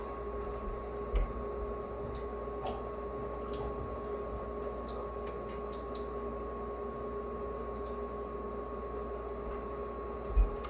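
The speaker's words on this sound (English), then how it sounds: "I just drained some water" Water drained from a pot of corn runs steadily into a kitchen sink, a continuous close splashing stream with a couple of small knocks, no talking.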